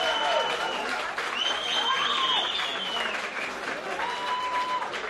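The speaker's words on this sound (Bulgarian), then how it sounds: "Сериозни аплодисменти от отбора на Партизан Челопечене" Applause at a 2014 English Sunday League awards ceremony greets the Partizan Chelopechene team, steady loud clapping from a crowd with whistle-like tones and voices rising above it.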